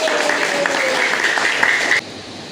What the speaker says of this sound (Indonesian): Oke, beri tepuk tangan dulu dah.